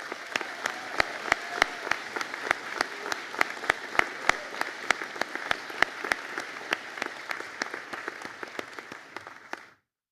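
Graduation audience applauding in a conferring hall, broad steady clapping with a few sharp, distinct claps punctuating it, moderately distant, continuing evenly before stopping abruptly.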